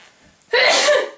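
A single loud, close sneeze bursts out after a quiet moment in a bedroom, sharp onset with a breathy tail.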